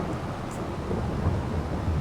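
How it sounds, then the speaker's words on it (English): Steady, dense rain hisses alone in Farming Simulator 22 over a low rumble, evenly loud throughout. "Oh no, is it raining? It's raining."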